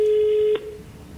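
A telephone line tone sounds steady and loud for about half a second, then cuts off and leaves a low hum, during a prank phone call on a Norwegian TV talk show.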